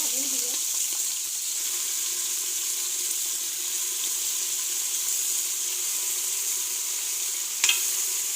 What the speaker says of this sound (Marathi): आता आपण जे मटण आहे ह्याच्यामध्ये घालून घेऊया।